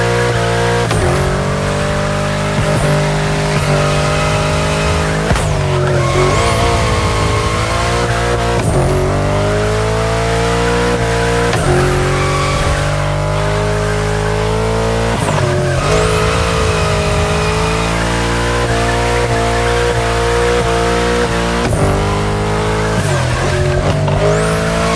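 A car drifts in The Crew Motorfest with a steady high engine drone and repeated, long tire squeals that swoop through each bend, loud and close, with brief pauses between slides.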